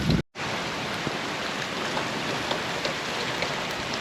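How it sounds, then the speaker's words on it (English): Steady rain pours down outdoors during gutter drain installation, a dense even hiss with scattered drop patters, close and constant after a brief silent gap at the start, no talking. "Yep, here comes the rain."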